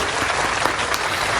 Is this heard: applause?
yes